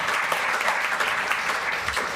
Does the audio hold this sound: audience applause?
yes